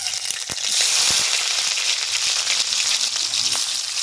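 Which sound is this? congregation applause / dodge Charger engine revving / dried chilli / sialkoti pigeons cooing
dried chilli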